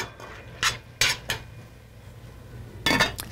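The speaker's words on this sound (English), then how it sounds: "I'll give a little bit of a stir, recover the pan" A spoon stirs blueberry sauce in a cooking pan, giving a few sharp metallic clinks and scrapes, and the lid is set back on with a final clatter. The sounds are close and clear, with no talking.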